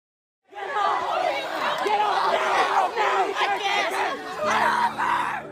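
Protesters shout and chant at a New Orleans City Council meeting, a loud crowd of overlapping yells and voices that starts abruptly and stays intense, with cries and chatter throughout.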